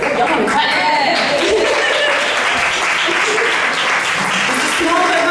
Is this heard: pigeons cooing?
no